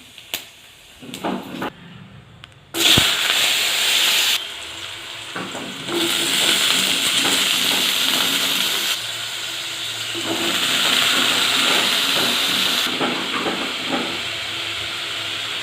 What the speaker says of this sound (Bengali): এবার এই তেলের মধ্যে 5 ফোড়ন দিয়ে দিচ্ছি। শুকনো লঙ্কা ফোড়ন দিলাম।